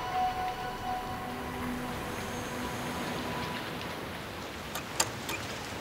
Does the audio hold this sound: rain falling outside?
yes